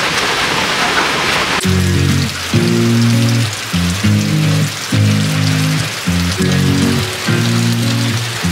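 Heavy rain pours down loudly and steadily on a surface, a dense continuous hiss, joined partway through by a pulsing low tonal drone that comes and goes in regular bursts.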